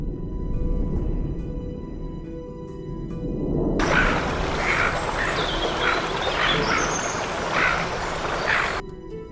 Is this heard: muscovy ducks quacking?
yes